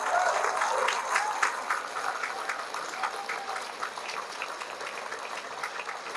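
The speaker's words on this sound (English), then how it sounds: "Let's give them a big round of applause." Applause from a crowd at a BC NDP political rally in a Surrey banquet hall: a dense, steady wash of clapping, loudest at the start and easing slightly, with faint voices mixed in.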